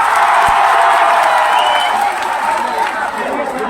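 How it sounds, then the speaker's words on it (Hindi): A large seated crowd at a rally on Patna's Gandhi Maidan applauds loudly, dense sustained clapping with cheering that slowly tapers. "अपने लिए जोरदार ताली बजाइए बैठकर आप"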